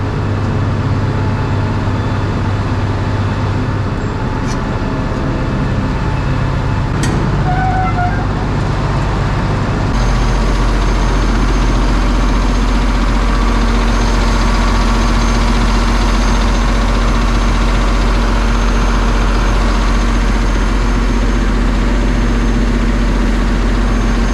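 A combine harvester's diesel engine turns over and settles into a steady low idle, with a brief sharper change partway through before the heavy rumble holds constant and close, with no voices.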